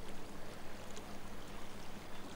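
Steady rushing river water, staged as a sound effect during a prank phone call, a dense even wash with no talking over it.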